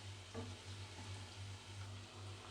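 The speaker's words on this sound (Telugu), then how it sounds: "అటు ఇటు తిప్పుకుంటూ కొద్దిగా మనకి ఫ్రై అయ్యే వరకు ఫ్రై చేసుకుందాం" Onions frying in a pan while being stirred, a soft continuous sizzle at low volume with a steady hum beneath it and no voices.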